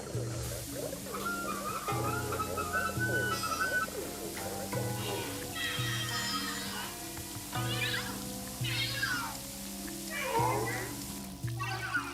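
Cartoonish cat meows in the Luigi's Mansion 3 video game, several short rising and falling cries over steady looping game music, with bird-like chirps mixed in.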